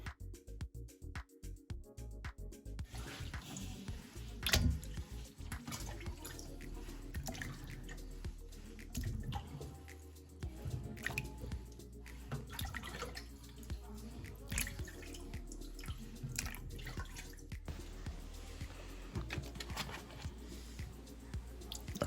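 Tap water runs in a kitchen sink while oxtail meat is rinsed, with wet squishing of the meat being handled, scattered drips and splashes, and intermittent clunks, close and continuous over about twenty seconds.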